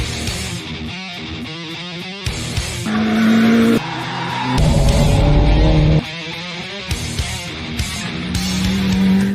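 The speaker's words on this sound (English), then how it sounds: "I simply took his Ferrari F8 Tributo and did a track test" A 2019 Ferrari F8 Tributo is driven hard on a race track. Its engine revs loud and close through repeated gear changes, with bursts of tire squeal between pulls.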